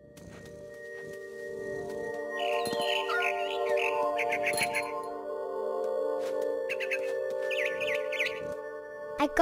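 Small birds chirp and trill in short bursts in the video game What Remains of Edith Finch, high in a big tree, over a steady game ambience with a sustained tonal drone; the chirps come in two clusters, moderately close.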